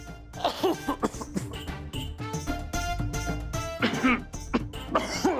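Several harsh coughs and throat-clearing bursts come in uneven fits, mixed with voices and background music.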